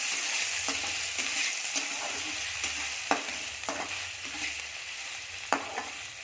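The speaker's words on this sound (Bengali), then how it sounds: "এবার পনিরগুলো সব দিয়ে দিয়েছি, এগুলো নেড়ে চেড়ে নেবো।" Paneer frying in hot oil with a steady sizzle, stirred in a pan with a few sharp scrapes and clinks of the spatula at irregular intervals, close and constant.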